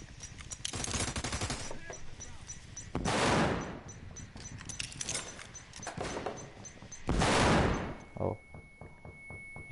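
Shotgun blasts in a video game, two loud booming shots several seconds apart over a busy backdrop of faint rapid gunfire, with brief talk in between.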